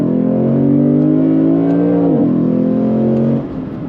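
A V8 car engine revs loudly and steadily as it downshifts through a turn, holding a rich droning tone that dips briefly, then settles and fades slightly toward the end.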